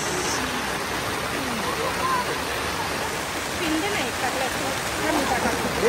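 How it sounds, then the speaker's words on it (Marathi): Heavy rain pours down in a steady, dense roar that fills the whole stretch, loud and close with no break in its hiss. "खूप पाऊस लागलेला आहे"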